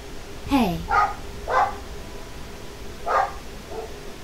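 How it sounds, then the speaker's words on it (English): A small dog barks in about five short, sharp yaps spaced unevenly, fairly close but not loud, against a quiet background. "My dog is being noisy"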